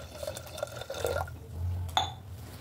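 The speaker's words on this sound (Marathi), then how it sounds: "आपण याच्यामध्ये साधारण 1 ग्लास पाणी घालूया" About a glass of water poured into smashed peas for ragda, a short close liquid splash and gurgle followed by a low burbling fill and a brief clink at the end.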